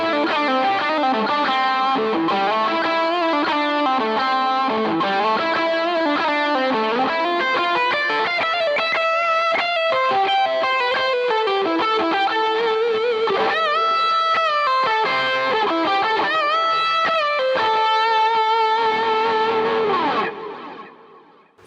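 Re-amped electric guitar driven through hardware effects pedals, heavily distorted with chorus and echo, playing a continuous riff-based line loud and alone for about twenty seconds before ringing out and cutting off.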